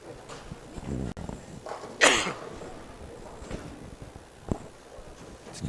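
A single sharp sneeze bursts out near the middle, set against a quiet indoor room with faint shuffling and a couple of soft knocks at a singles match-play tournament.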